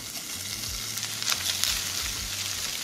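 Seasoned chicken frying in avocado oil in a pan over medium heat, a steady close sizzle with soft crackles and a low hum underneath, with no talking.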